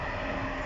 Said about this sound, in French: Désolé pour le train qui passe juste là-bas.